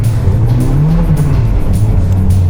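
A Volvo 940 Turbo slides sideways on a rallycross track, its engine droning loud and close with a steady, wavering note throughout.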